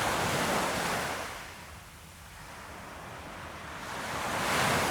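Waves wash onto a beach in a loud, close roar of surf that swells, eases briefly, then builds again, with no voices.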